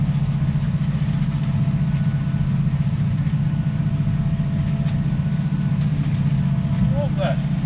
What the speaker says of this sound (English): I do love a bit of ploughing though, no matter what tractor it's on.